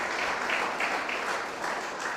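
Sustained audience applause fills a hall during a 2021 Hammond state of the city address, a dense, steady wash of many hands clapping with no gaps, loud and fairly close.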